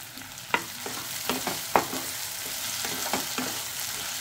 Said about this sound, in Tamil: இப்போ தக்காளி போட்டு நல்லா குழைய வதக்கிக்கணும்